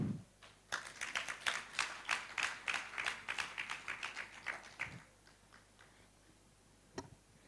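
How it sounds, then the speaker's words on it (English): Clapping from a conference audience, a brief run of about fifteen fairly even claps lasting a few seconds, then quiet apart from a single later tap. "I hope that hand clap means that you're in total agreement."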